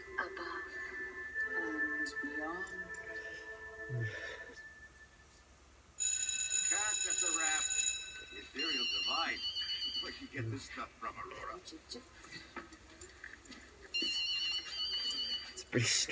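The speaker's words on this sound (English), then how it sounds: "Strange ringtone, but yet again," A phone ringtone from an early-2000s television episode plays in short bursts of electronic chirping tones, with spoken dialogue between the rings.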